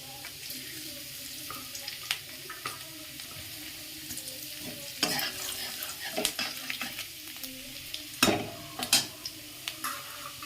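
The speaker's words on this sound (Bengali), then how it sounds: "আমার সাদা তেলটা গরম হয়ে গেছে তেলটার মধ্যে আমি দিয়ে দিচ্ছি রসুন কুচি আর আদা কুচি" Chopped garlic and ginger fry in hot white oil with a steady sizzle, while irregular spatula stirs and scrapes punctuate it from close by.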